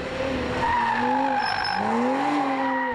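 Porsche cars on a slalom course at Calabogie racetrack squeal their tires continuously, a loud, close, wavering screech with engine noise underneath.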